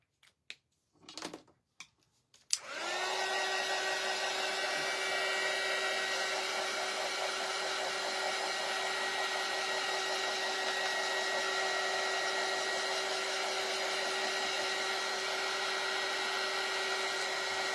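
After a few light taps and clicks, a hair dryer switches on and blows in a steady, even whine, drying thick paint on a craft door hanger; the hum continues unbroken and fairly quiet with no voices.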